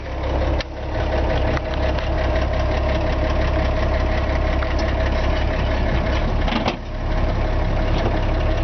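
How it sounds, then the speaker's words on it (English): A 1957 Chevy 3100 pickup engine cranks on its floor starter pedal and catches, then settles into a steady, rumbling idle with a couple of brief knocks, loud and close. "Turn the key on here and push the starter pedal on the floor. It fires right up."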